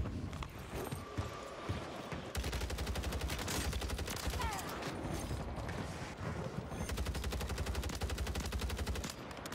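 Rapid automatic gunfire in Call of Duty Warzone (Modern Warfare III), sustained bursts of dense rattling shots with mechanical clatter, loud and close, pausing briefly before resuming.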